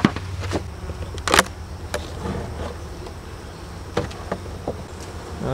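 Honey bees of a colony in hive supers buzz in a steady close drone, with scattered clicks and knocks from handling the frames.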